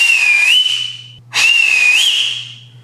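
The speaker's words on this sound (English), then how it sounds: "I've watched so many YouTube videos on how to whistle that I literally just learned this." A person whistles two long, loud, breathy notes close up, each holding a steady pitch with a slight wobble, separated by a brief pause for breath.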